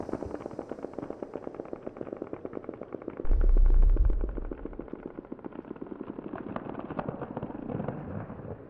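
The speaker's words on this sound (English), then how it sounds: "It does rather sound like fireworks, doesn't it?" Rapid crackling explosions like fireworks or gunfire in a dense continuous barrage, with a heavier deep boom midway, loud and close throughout with no speech.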